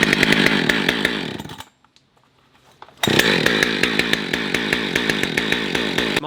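A chainsaw engine runs loud and close with a rapid buzzing roar, cuts out for about a second and a half of near silence, then roars back and keeps running.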